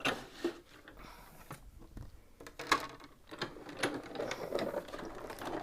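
Die cutting machine running a stamp shadow die through, a faint, close mechanical whirring and clattering with irregular clicks and bumps as the plate moves through the rollers, quiet throughout.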